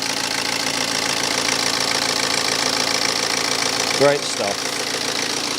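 A BMW diesel engine idles steadily just after starting, a constant, fairly loud knocking rumble throughout, with a short spoken remark near the end.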